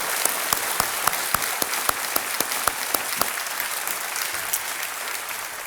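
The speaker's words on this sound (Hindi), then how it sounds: "तालियों के साथ आपका हम अभिनंदन" A studio audience applauds on a television quiz show, a dense wash of clapping with sharp individual claps standing out, steady then gradually thinning toward the end.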